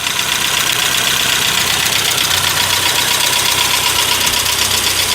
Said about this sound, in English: We're just gonna let it run for a second.